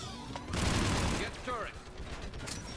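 Turret gunfire in the video game Mass Effect 3: a loud, dense burst of rapid shots that swells after a brief lull, with mechanical whirring and a voice calling out over it.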